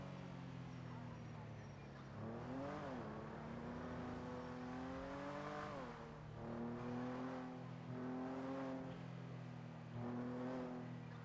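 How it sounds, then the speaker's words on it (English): A car in a GTA roleplay game on the NoPixel server coasts off the throttle, its steady engine drone rising and falling in pitch across several gentle sweeps, loud and continuous with speech over it. "The car coasts for a while. I haven't accelerated in a decent bit."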